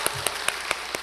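A church congregation gives sparse, scattered claps during a Wednesday worship service, a few distinct sharp hand claps spaced irregularly across a quiet room.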